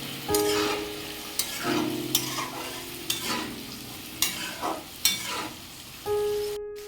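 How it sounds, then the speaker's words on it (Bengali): Spices for a rohu fish curry stir-fried in a pan, the cooking sound carrying a steady sizzle broken by repeated sharp scraping strokes of the spatula, close and fairly loud, with no talking. "এবার এটাকে ভালো করে কষাতে থাকবো।"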